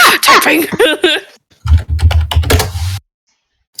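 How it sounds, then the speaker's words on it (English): Computer keyboard typing: a quick burst of closely spaced key clicks rings out loud and close right after a spoken voice, then stops abruptly. "Typing."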